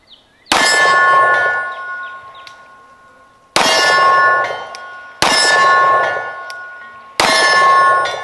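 A 10mm RIA 2011 pistol fires four shots at a steel target, and each hit rings out as a loud, sharp clang whose metallic tone decays slowly, spaced about two to three seconds apart.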